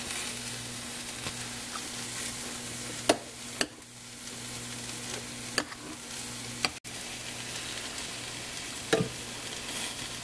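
Chicken seasoned with salt and pepper sizzles softly in a pan while it is stirred, with a low continuous fry and a few sharp utensil knocks against the pan.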